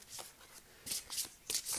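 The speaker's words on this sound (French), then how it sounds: "une carte qui ne veut pas sortir" Tarot cards rustle and slide out of the deck during a card draw. A few soft, quick swishes and flicks sound close and quiet, with no speech.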